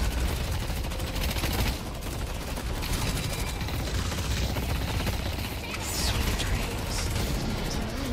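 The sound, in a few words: gunfire in the video game Deadlock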